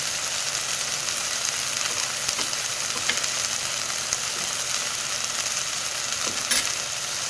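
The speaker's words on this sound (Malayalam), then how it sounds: "ഇത്രയും പൊടികളും കൂടി ചേർത്ത് നന്നായിട്ട് നമുക്ക് വഴറ്റിയെടുക്കാം." Ground coriander and chili powder sauté in a pan while a coconut-milk fish curry is prepared: a steady, even sizzle runs throughout with a few faint scraping ticks.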